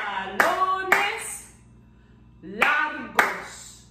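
Hands clapping out the syllables of a Spanish word in a children's language lesson: two quick claps, a pause, then two more, crisp and close, with no speech between them.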